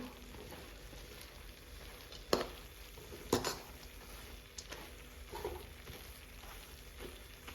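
Boondi stirred with sugar syrup in a pan for desi ghee boondi laddoos, a soft wet sticky shuffling with a few sharper scrapes and knocks of the spoon against the pan.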